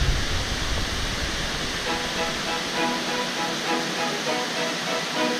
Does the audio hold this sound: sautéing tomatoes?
no